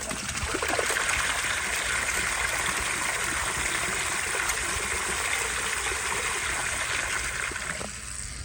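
A miniature 10-inch Berlin toilet prototype flushes with a steady rushing, trickling stream of water that runs evenly for several seconds before easing off slightly at the end, with no voices.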